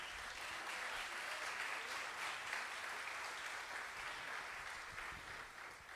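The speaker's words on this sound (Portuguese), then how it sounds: "Aplauda o Senhor Jesus por isso." A church congregation applauds during a sermon, a continuous, even wash of many hands clapping that holds steady and then tapers slightly, fairly faint and with no talk over it.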